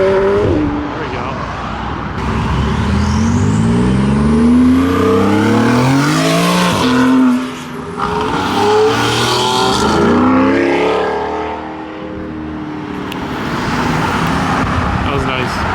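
A yellow Porsche at a supercar meet revs its engine up and down in rising and falling sweeps, loud and near, with crowd chatter and traffic noise underneath.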